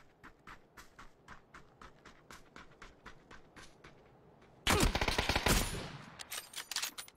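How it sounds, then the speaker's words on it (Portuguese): Enemy gunfire in a video game: a steady run of distinct, evenly spaced shots, then a sudden loud burst of rapid overlapping fire that keeps on, with no voices. "Cuidado, os caras atirando em mim."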